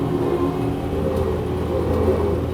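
A Fat Truck 4x4 engine holds a steady, loud rumbling drone under acceleration, with no voices over it.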